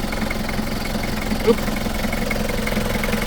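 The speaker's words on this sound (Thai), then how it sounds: "เสียงเครื่องนิ่มมาก" A used pickup truck engine idles at a steady low rumble for several seconds, close and even, with one brief soft click partway through.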